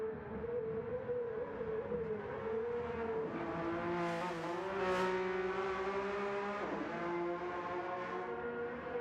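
Race car engines on the Nurburgring track, with a BMW among them, drone steadily and loudly, rising in pitch as one car passes close by and then falls away.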